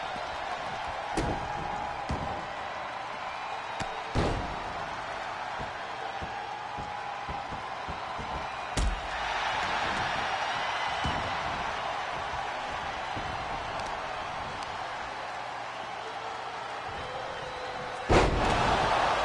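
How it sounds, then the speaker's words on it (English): In a pro wrestling match, bodies thud onto the ring mat in several sharp, loud slams spread across about twenty seconds, the heaviest one near the end. A constant crowd murmur fills the arena underneath. "Another sit-out power bomb"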